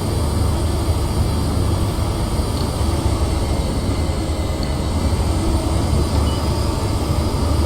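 A Class 43 HST train running at speed on the Great Western Main Line in Train Simulator, giving a steady, loud rumble of engine and rail noise that carries on unbroken throughout.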